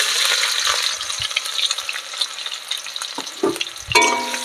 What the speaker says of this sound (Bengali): এগুলো হালকা করে একটু ভেজে নেব আমি।